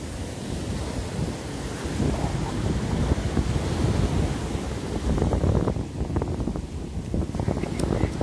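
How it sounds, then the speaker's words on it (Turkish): Sea waves wash and break steadily in a rocky cove near Datça, with gusty wind buffeting the microphone throughout and no talk. "ben susayım dalganın sesini dinleyelim değil mi?"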